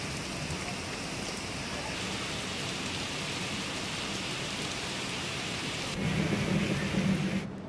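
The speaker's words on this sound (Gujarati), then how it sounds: "ધોધમાર વરસાદને પગલે તમામ જગ્યા પર પાણી ભરાઈ જવાના દ્રશ્યો સામે આવ્યા છે" Heavy rain pouring down in a steady dense roar over flooded streets in Patan, Gujarat, with a low rumble swelling briefly near the end.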